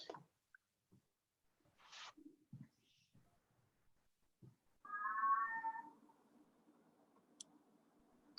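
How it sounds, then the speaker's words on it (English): Domestic cat meowing indoors during a committee meeting: a single fairly clear meow in the middle, surrounded by scattered faint knocks and rustles in a quiet room. "Is that your cat, Fiona?"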